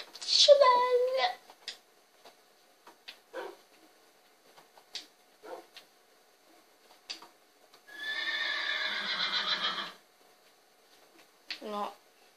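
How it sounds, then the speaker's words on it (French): A horse in the video game Célestia whinnies loudly at the start, followed by scattered clicks and a sustained synthetic tone, then another short neigh near the end. "Petit cheval."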